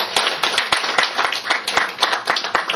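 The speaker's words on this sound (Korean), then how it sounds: "박수 좀 한번" A small audience at a tea lecture gives rhythmic applause, sharp distinct hand claps repeating at a quick steady pace, close and fairly loud, with no talking.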